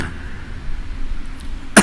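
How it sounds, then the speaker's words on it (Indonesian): A single sharp cough bursts out at the very end, after a stretch of quiet room noise. "yang kedua batuk ini"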